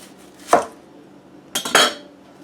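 A manual food chopper cuts shallots in two quick bursts: a single sharp chop, then a pause, then a double clatter of blades, close and fairly loud with nothing else audible.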